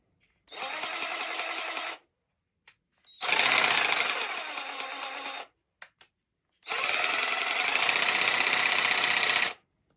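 Bosch jigsaw cutting with orbital action: three loud, steady bursts of buzzing machine noise of about 1.5, 2 and 3 seconds, with brief silences and clicks between them.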